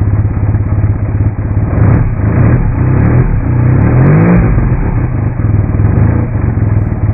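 A Suzuki rotary-engined motorcycle runs loudly and close, its smooth engine note rising and falling in a brief rev without pause and with no speech.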